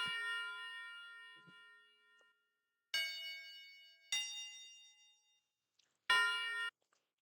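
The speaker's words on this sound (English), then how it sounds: "after that, we went with the little tubular bell" Tubular bell notes in an FL Studio beat: four bright, ringing strikes, each with a long decaying shimmer, spaced apart with silences between, clean and alone.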